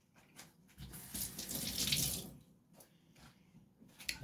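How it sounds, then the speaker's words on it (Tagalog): Water runs from a kitchen tap to be added to a blender, a soft splashing stream that swells to a fuller gush in the middle before easing off, with small clatters around it. "Lagyan natin ng kaunting tubig para hindi mahirapan ang ating blender."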